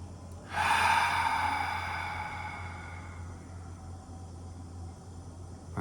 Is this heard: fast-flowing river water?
no